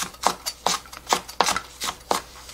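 A knife slices a green onion stalk diagonally on a cutting board, with six crisp, evenly spaced chops sounding up close and alone.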